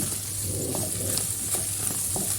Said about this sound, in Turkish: 1 yemek kaşığı salça ilave yaptım. Onunla da kavuruyorum.